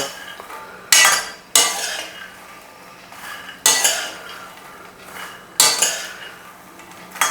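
Fox nuts (makhana) roasting in a pan, heard as several sharp metallic scrapes and clanks of a spoon against the pan at irregular intervals, each fading into a softer rustling stir.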